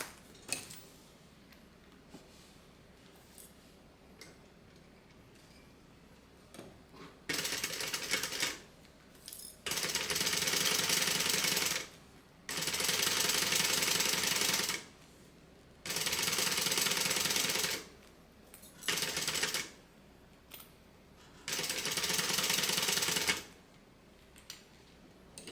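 Sewing machine basting along a zipper on a fabric backpack, running in several loud bursts of steady rapid stitching separated by brief pauses, with no talk.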